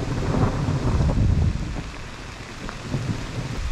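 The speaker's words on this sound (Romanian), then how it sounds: "vântul ăsta teribil nu a apărut pe prognoză" Strong windstorm with rain around a cabin, a loud continuous roar of wind and rain with low rumbling thunder swelling and fading throughout.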